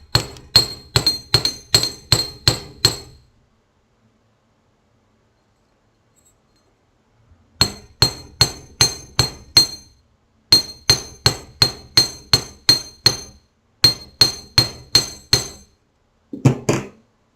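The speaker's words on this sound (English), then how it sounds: "just enough to hammer it" A small hammer taps wire for wire-wrapped earrings in quick, sharp metallic bursts of about six to eight strikes each, with pauses between the groups, close and clear.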